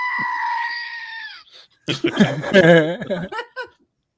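A goat lets out one long, loud, wavering scream that fades away, followed by a short gap and then bursts of human laughter and chatter.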